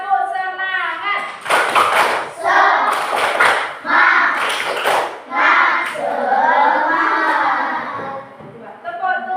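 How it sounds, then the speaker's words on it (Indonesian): A primary school classroom claps together in a rhythmic group pattern, several bursts of hand claps mixed with children's voices, loud and close. "Coba tepuk semangat."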